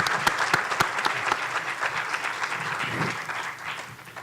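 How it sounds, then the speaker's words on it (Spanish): Audience at a public and road safety event applauding for a speaker, with a few sharp nearby claps at first, then full crowd applause that gradually thins and fades. "Les pido un aplauso"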